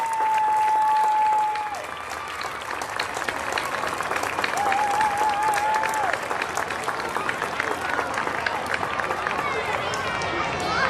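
A crowd at a youth baseball closing ceremony applauds the runner-up Pirates machine pitch team, a steady wash of clapping that sets in early and holds to the end, with a brief whistle partway through.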